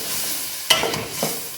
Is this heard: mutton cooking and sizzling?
yes